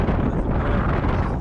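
Wind gusting outdoors in open country, a loud, continuous buffeting roar across the microphone with no pause, no other sounds audible.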